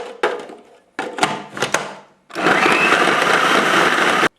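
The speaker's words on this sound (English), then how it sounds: "I'm going to process this until I have, pea-size flour and butter." A food processor chops frozen butter and flour for pie dough, first in several short loud pulses with brief gaps, then in one sustained whirring run, close up and with no talk.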